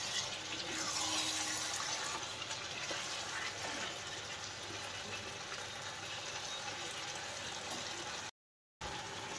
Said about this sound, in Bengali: এরপর দিয়ে দেওয়া হচ্ছে এই গরম জলটা